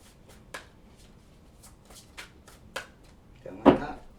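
Tarot cards are shuffled in quick riffling bursts, with light scattered taps and flicks building to one louder final shuffle, close and crisp, with a faint voice nearby.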